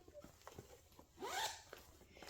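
A zipper on an inside pocket of a handbag is pulled open in one quick rasping stroke, close and soft, amid faint handling noise.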